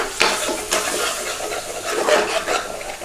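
A curry with base gravy is gently cooking and stirred in a pan, giving a steady sizzle and hiss broken by a few scraping strokes of the spoon, close and fairly loud.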